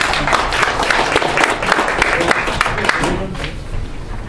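An audience claps steadily to welcome a youth-forum president to the stage at a Korean international diplomacy and security conference; the applause is dense, close and continuous, then thins slightly toward the end.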